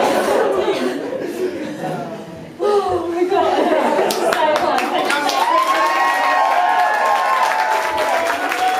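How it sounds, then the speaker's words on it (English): Wedding guests clap and cheer after a surprise flashmob, a dense roar of hands and voices with whoops, swelling louder after a brief dip near the third second and holding strong to the end. "Big round of applause."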